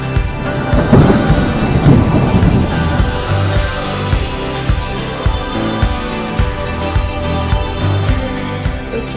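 A thunderstorm in Kinshasa, with a loud thunder crack and rolling rumble early on, followed by steady rain drumming on a surface in rhythmic bursts.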